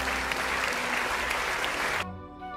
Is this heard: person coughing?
no